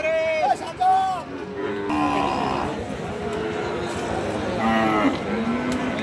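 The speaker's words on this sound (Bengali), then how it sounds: "অসংখ্য সুন্দর সুন্দর গরুই এই হাটে উঠে থাকে" Cattle moo several times at a busy Bangladeshi cattle market selling medium-sized Sahiwal and Gir cows for Qurbani. The lowing calls are close and loud over steady crowd babble and someone talking.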